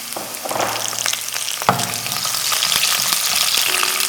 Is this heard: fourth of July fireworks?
no